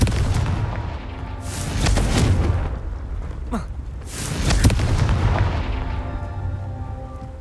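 Confringo blasting spell from Hogwarts Legacy, a dark-wizard combat game: two heavy, rumbling explosions roughly two seconds apart, each swelling and then fading into a low booming roar, with no talking.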